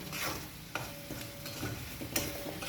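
Mashed egg yolk and cumin fry in a pan with a steady sizzle, while a spoon stirs and scrapes through it with occasional light knocks against the pan.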